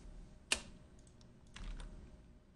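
Typing on a computer keyboard, a sharp keystroke followed by a short burst of softer, fainter key clicks over a quiet room hum.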